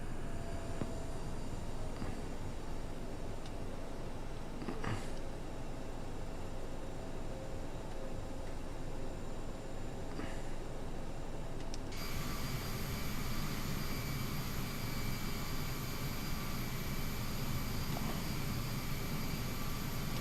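Inside a Bombardier CRJ550ER taxiing to the gate at Tampa at night, a steady engine rumble and airflow roar fill the cabin, and the whine shifts brighter about midway through. No voices are heard.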